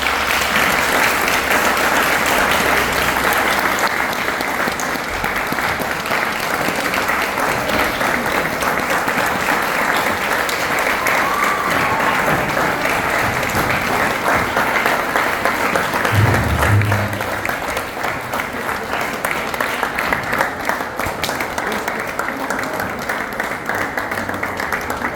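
Sustained audience applause after a Founder's Day lecture, a dense wash of many hands clapping steadily for about 25 seconds, fairly loud and unbroken, with a brief low thump near the middle.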